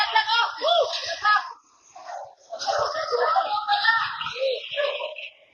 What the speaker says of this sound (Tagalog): maririnig ang ilang residente na sumigaw na may nalaglag